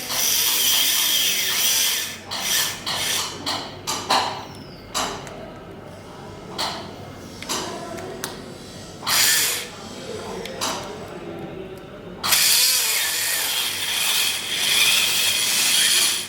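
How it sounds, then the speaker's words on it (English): A dental implant drill boring toward the pterygoid bone, a high whining spray-cooled drill in repeated short bursts and longer runs, close, with mechanical creaks and quiet pauses between. "So over here we will start the drilling in this manner."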